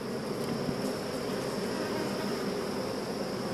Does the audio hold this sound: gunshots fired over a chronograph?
no